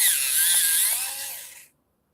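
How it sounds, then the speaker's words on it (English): A dark brown colored pencil is sharpened in one loud, close, high whirring grind that lasts under two seconds and then stops abruptly. "I'm going to sharpen this dark brown real quick."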